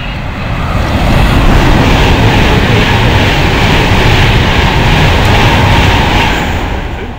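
An Euston to Glasgow train runs through Nuneaton station without stopping, a loud, steady rushing roar that swells in over the first second, holds, and eases off slightly toward the end.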